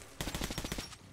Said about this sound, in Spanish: ¿Eso era una escopeta?